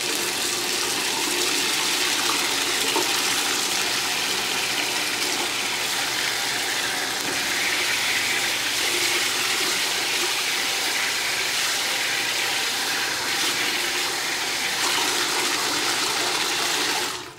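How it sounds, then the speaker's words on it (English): Warm tap water runs steadily over a washable HEPA filter being rinsed, a continuous close splashing gush that holds at an even level throughout with no talking. "Once you got it to the correct temperature, just run the filter underneath it, do a couple passes on each side"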